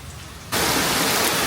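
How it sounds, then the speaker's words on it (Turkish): Heavy rain bursts on suddenly in a garden and becomes a loud, steady, broadband roar of drops that drowns out everything else. "Yağmur şiddetlendi."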